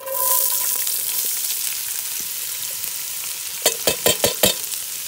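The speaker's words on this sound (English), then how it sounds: "we are going to brown these ingredients together" Celery, garlic, onion and carrots browning in a potjie pot over a wood fire, a steady close sizzle with a few sharp scraping stirs near the end.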